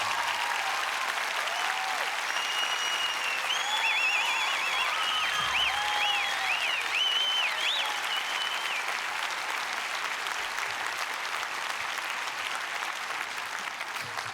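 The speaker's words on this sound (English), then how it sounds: "Would you give these courageous folks a round of applause for being who they are?" Concert audience applauding steadily for a long stretch, a dense even wash of clapping heard from within the crowd, with a few whistles and cheers rising over it.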